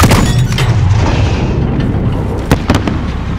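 Grenade blast in the war game Call of Duty Modern Warfare, heard as a loud, dense booming explosion with a rumbling tail, followed by a couple of sharper cracks.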